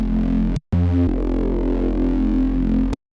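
A thick, gritty Serum synth bass with hyper and distortion effects plays sustained buzzing notes, broken by two short gaps and a brief stuttering change, loud and alone.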